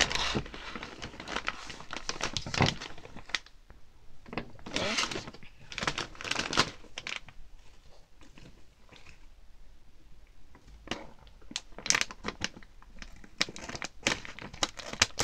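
Crinkling and tearing of a Japanese Honey Butter Chip snack bag as it is opened by hand, loud close crackly bursts in several clusters with quieter gaps between.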